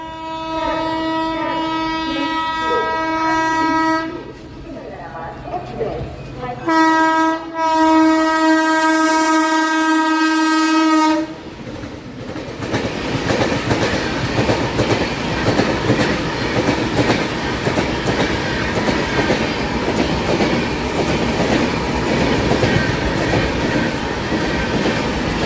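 A MEMU local train between Kazipet and Secunderabad sounds a long, loud horn in two sustained blasts, then rumbles on with steady wheel and carriage clatter.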